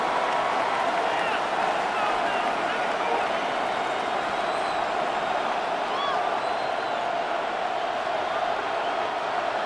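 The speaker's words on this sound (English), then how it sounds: "The crowd at MetLife on their feet for 3rd down." Steady stadium crowd roar at MetLife during an American football game in the video game Madden 26, a dense continuous wash of cheering that holds level throughout, with commentary voices talking over it.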